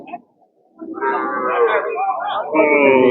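A local desi cow at a rural cattle market gives one long, loud, drawn-out moo that fills most of the clip, rising again near the end, following a short faint sound at the start.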